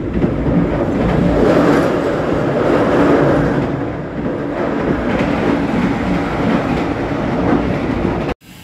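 The Lodaya passenger train in Indonesia rolls loudly along the rails, a constant rushing rumble with clattering wheels that cuts off abruptly at the end.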